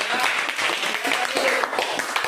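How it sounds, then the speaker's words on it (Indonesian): Applause for a student group during a classroom teaching assessment session, a steady patter of clapping hands lasting throughout with some voices mixed in. "tepuk tangan untuk kelompok 5"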